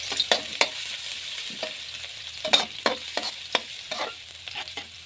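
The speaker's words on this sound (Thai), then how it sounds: "ตั้งกระทะใส่น้ำมัน น้ำมันร้อนก็ใส่กระเทียมลงเลียวได้เลย" Garlic sizzles quietly in hot oil while a utensil scrapes and taps the pan in irregular strokes.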